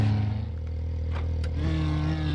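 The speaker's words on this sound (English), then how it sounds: "Neutral isn't that bad either as you rev." Truck engine in a SnowRunner mod revving in neutral, a steady low rumble that swells slightly as the revs rise, close and loud, with a faint whine on top.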